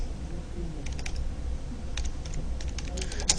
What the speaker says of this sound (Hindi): पार्टीशन क्रिएट करने के लिए टाइप करेंगे क्रिएट